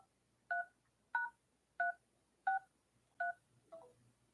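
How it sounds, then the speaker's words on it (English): Six evenly spaced telephone keypad dialing tones beep one after another, clear and moderately quiet, with no voices over them. "Someone's dialing on your phone now."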